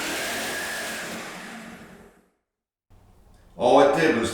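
An oscillating multi-tool fitted with a scraper blade runs at full power against carpet pad staples, a loud buzzing whine that winds down into silence before a voice starts speaking.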